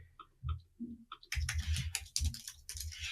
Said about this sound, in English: Just typing in any random given data, and that seems to work fine.